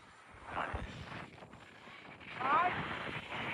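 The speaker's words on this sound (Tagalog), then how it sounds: "Humihina na hangin" Wind buffets the microphone outdoors while a radio-controlled model plane flies, a steady rough rush with gusts that swell, strongest a little past the midpoint.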